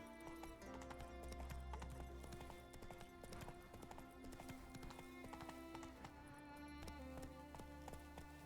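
Hooves of Roach, the horse in Witcher 3, clip-clop steadily at a brisk pace, close and continuous over game music, with a faint neigh.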